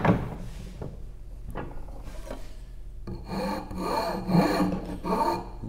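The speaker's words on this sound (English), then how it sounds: "Rolling the file back and forth around the edge." A half moon file rasps back and forth along an edge clamped in a vise, scattered strokes at first, then a denser run of rubbing strokes, close and clear, with no voices.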